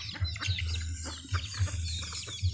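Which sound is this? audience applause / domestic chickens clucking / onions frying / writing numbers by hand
domestic chickens clucking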